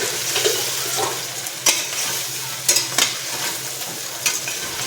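Ingredients for a luni bhaji (purslane greens) muthiya dough being stirred and mixed together with a generous amount of oil, a steady rough scraping and churning with a few sharper knocks scattered through it.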